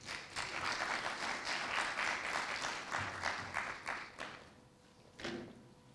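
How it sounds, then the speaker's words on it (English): An audience at an academic event on sustainable development applauds as a speaker walks on stage, giving a few seconds of dense, close clapping that thins out, followed by a couple of scattered claps and a thump. "Please clap your hands as she comes on stage."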